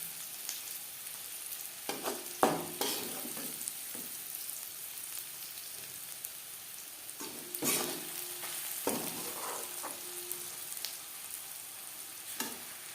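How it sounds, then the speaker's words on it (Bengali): Onions frying to a reddish brown in a pan for egg biryani give a steady close sizzle, broken by sharp scraping clicks from a spatula stirring at irregular intervals. "পেঁয়াজ ভাজা হয়ে গেছে।"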